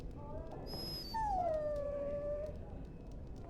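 A dog in the video game Dragon Age Origins lets out a drawn-out, falling whimper, almost a soft howl, preceded by a brief high whine, close and moderately loud over low background rumble.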